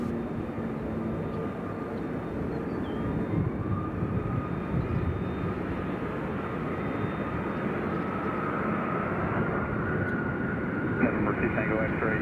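A fixed-wing airplane approaches Nashville International Airport with a steady, loud engine roar and rushing drone that holds throughout, with faint radio chatter beneath.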